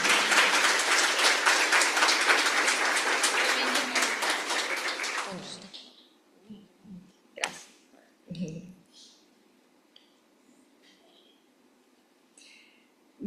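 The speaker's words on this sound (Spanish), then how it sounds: "la doctora Xochitl Sandoval, para quien pido un fuerte aplauso." At a specialist panel event on digital transformation and education, an audience claps warmly to welcome a guest, dense applause that fades out after about five seconds. Scattered clicks, shuffles and brief voices follow in a quieter room.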